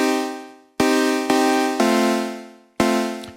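A BeepStreet Dagger analog-modelling synth plays a sequence of chords: a loud, bright, buzzy first chord, then three more with sharp attacks, each one held briefly and fading before the next, heard clean with no voices.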